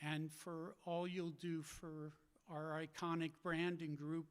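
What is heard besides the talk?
None of the usual background noises is heard.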